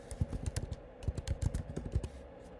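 Quick, irregular taps on a computer keyboard as a username is entered, close and fairly soft, with a few brief pauses between bursts of keystrokes.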